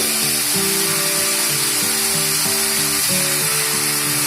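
Boiled potato is stirred into a banana flower mixture frying in a pan, giving a loud, constant sizzle and hiss with a steady whine underneath and no voices.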